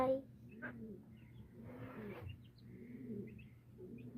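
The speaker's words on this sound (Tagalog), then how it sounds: "Ito yung mga bantam niya mga kalapatids." Bantam pigeons coo softly inside a loft, with low repeated coos and faint chirps at a moderate distance, over quiet background noise.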